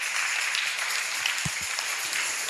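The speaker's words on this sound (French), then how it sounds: "On acclame, on acclame." A church congregation applauds with a steady, fairly soft wash of clapping that holds throughout.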